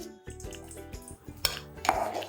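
A few metallic clanks and knocks as a cooking pot is set down on a gas stove, with a sharper clatter near the end.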